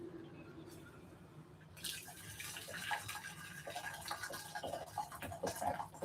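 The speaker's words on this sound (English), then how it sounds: "I'm going to pour the water in." Boiled water is poured from a kettle into a mixing bowl for a chocolate orange cake, a steady soft splashing stream that starts after a short quiet lead-in and carries on to the end.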